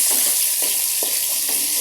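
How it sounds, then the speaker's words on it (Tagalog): Loud, steady sizzling of potatoes frying in hot oil, with a few soft rhythmic stirring scrapes repeating beneath the hiss. "Prito muna natin ang ating patatas."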